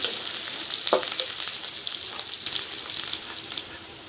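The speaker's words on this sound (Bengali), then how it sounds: "আমার পেঁয়াজ রসুন লাল লাল ভাজা হয়ে গেছে" Onion and garlic browning in a pan of hot oil with whole spices, a continuous crackling sizzle up close with occasional spatula scrapes, quieting briefly near the end.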